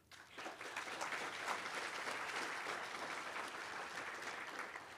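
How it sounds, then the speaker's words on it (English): Applause from a conference audience at the opening of State of the Map US 2024, a steady broadband wash of many hands clapping that holds evenly for about five seconds at moderate distance, with no talking over it. "So give them a round of applause."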